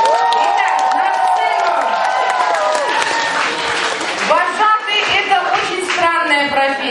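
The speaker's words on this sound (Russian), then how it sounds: "Аплодисменты!" At a summer camp ceremony, a crowd gives loud, sustained applause and cheering as camp counselors are called onstage, with children shouting and whooping over dense clapping that lasts the whole time.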